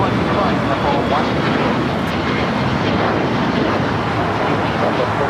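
MSC Air Cargo freighter taking off at LAX, bound for Hong Kong: a dense, loud engine roar filling the whole span evenly, with a voice faintly present under it.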